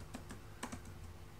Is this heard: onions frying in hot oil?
no